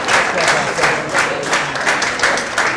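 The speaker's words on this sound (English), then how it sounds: "please give a resounding round of applause for all." An audience at a town planners' program gives a round of applause, a dense, continuous wash of many hands clapping with slight surges in intensity, loud and close, with some voices mixed in.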